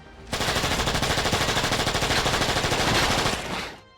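Sustained automatic gunfire from the King Kong video game on Xbox 360, a dense rapid rattle of shots lasting a few seconds before cutting off, loud and continuous with no talking.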